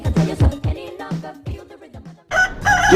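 A voice speaks briefly on a TV morning show, then a loud rooster crows once at the end, close and clear.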